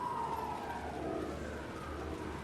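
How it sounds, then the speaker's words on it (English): Police car siren in the video game Alan Wake 2, a steady wailing tone running through the whole short stretch over a low rumbling ambience, moderately loud and continuous. "Now it's a police car."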